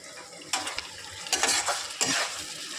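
Ground ginger, garlic and chili paste stirred in a hot pan, with a steady sizzle of frying and close scraping strokes of a utensil against metal, loud and without talk.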